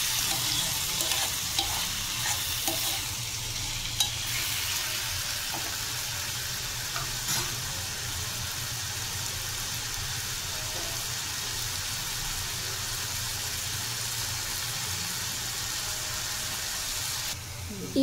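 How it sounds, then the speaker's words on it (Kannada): Tomato curry sautés in a pan with a continuous soft sizzle and frequent scraping stir strokes, steady and close throughout with a brief clatter near the end. "ಇದಕ್ಕೆ ನಾವು ಸಾಟೆ ಮಾಡ್ಕೊಂಡು ಬಿಡಬೇಕ್ರಿ. ಚೆನ್ನಾಗಿ ಹುರಿಬೇಕ್ರಿ."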